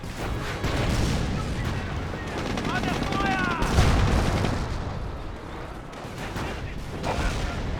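Gunfire and grenade blasts from a Company of Heroes 1 battle between German Wehrmacht and British forces, rumbling bursts and a heavier boom near the middle over steady battle noise, with someone talking throughout.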